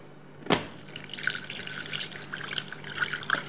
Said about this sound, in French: Je vais pouvoir ajouter l'eau.